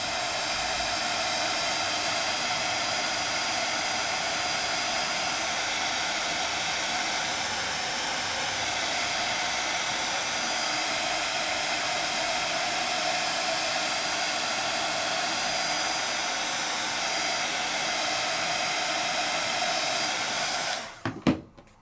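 A hair dryer blows steadily and loudly for about twenty seconds, drying gum arabic paint, before it switches off with a short clatter at the end.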